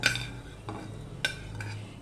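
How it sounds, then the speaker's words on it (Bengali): A spatula scrapes and stirs spice paste with fried taro pieces in a pan, giving several distinct scraping strokes over a soft, steady frying sizzle, close and clear with no voices. "এবার মশলাটা আমি ভালো করে কষিয়ে নেব।"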